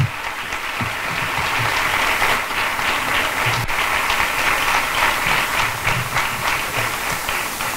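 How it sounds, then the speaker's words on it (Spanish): A gala tribute audience breaks into sustained applause, a dense, loud clapping that carries evenly from start to finish. "Un aplauso para ellos."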